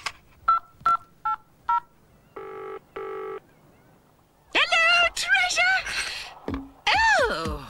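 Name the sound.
portable phone being dialled, keypad tones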